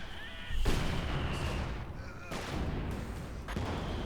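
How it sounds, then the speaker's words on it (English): Mortar shells from an emplacement land in Company of Heroes 2, three loud broadband blasts arriving about a second apart, each trailing off into rumble over steady battle noise. "Oh, they're getting shelled by the mortar pit."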